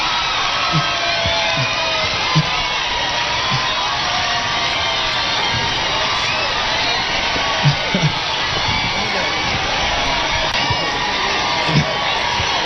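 A large crowd cheers and shouts continuously, a dense roar with occasional whoops and claps standing out, sustained and loud throughout.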